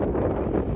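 Strong sea wind buffeting a handheld phone microphone on a coastal clifftop in southern England near Eastbourne, a loud continuous low roar and rumble with no pauses.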